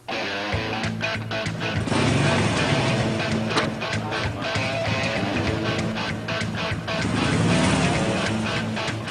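Motorcycle engine revving as a rider heads off for a test spin: an engine starts and roars steadily, rising and falling in pitch with throttle, loud and close, with faint talk mixed in.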